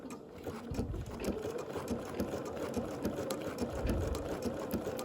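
A sewing machine runs steadily for the full five seconds, whirring as it works a blanket stitch along an appliqué edge. The needle patters in a rapid, even rhythm, close and fairly loud, with no voices.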